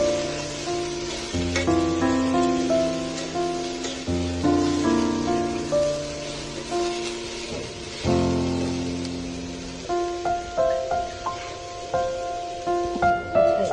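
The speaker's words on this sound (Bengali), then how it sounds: "আলু আর ডুমুরগুলো নাড়তে হবে।" Potatoes and figs fry in a pan, a steady sizzle running throughout while the pieces are stirred and turned with soft scrapes. Tonal background music plays over it, and no one talks.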